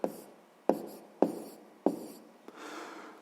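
Pen writing a maths answer on paper, four sharp taps followed by short scratchy strokes in an even rhythm, then a longer scribble, close and fairly quiet.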